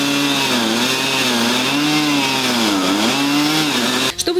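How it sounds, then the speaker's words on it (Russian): A petrol chainsaw cutting hazardous roadside trees along a federal highway near Sochi, a loud sustained engine whine that rises and dips under load, running close and alone before cutting off abruptly at the end. "Пока работает бензопила, экскаватор придерживает ствол."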